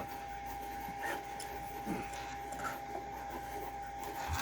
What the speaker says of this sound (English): First, you move your bed forwards.